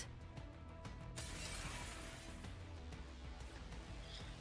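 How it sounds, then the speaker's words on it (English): Glass shatters in a video game, a sudden bright crash of breaking shards about a second in, followed by a lingering scatter of debris. The whole sound is quiet and distant rather than close and sharp. "The familiar and terrifying sound of glass breaking fills the air."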